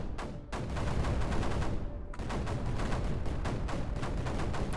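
Cannon fire in the video game Creeper World 4, a dense, loud barrage of rapid booming shots with one brief pause, continuous and close.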